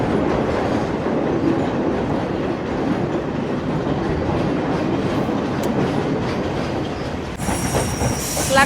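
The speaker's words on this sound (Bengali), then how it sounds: "এই দেখো ট্রেনটা যাচ্ছে" Passenger train running along the coast in Sri Lanka, heard from on board as a loud, steady rumble of wheels on rails with rhythmic clatter and some squeal, with no talking.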